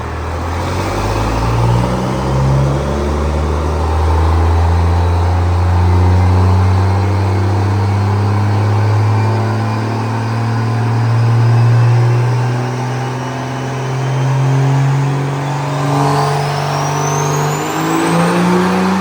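A Cummins diesel burnout truck engine revs hard and close, swelling up and down through long, loud pulls with a deep throaty drone, then tapering off near the end.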